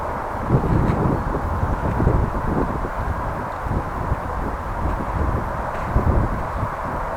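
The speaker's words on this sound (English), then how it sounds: "The noise you're hearing, the whooshing noise, is the traffic going by in the ring road." Road traffic whooshing past on a ring road in Groningen, a steady broad rushing roar with gentle swells as vehicles pass, heard at a moderate distance with some wind buffeting.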